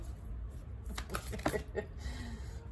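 Tarot cards are shuffled with a quick run of soft riffling and tapping, close by, over a faint hum.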